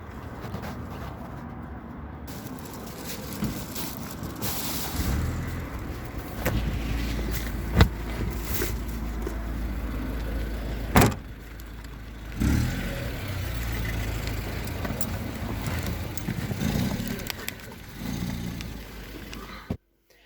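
Inside a car heading home from a grocery store in Kazakhstan, a low steady engine hum and road rumble run throughout, with a few brief knocks and clicks and no talking.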